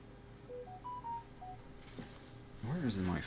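A phone gives several short, quiet electronic tones in a rising and falling pattern, then a voice starts talking over them near the end.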